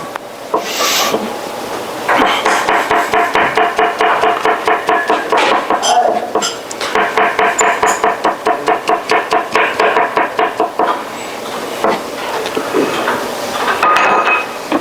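Knife thinly slicing garlic on a wooden cutting board in a home kitchen, a fast run of crisp, even taps and rubs close up, pausing briefly between bursts, with no talk.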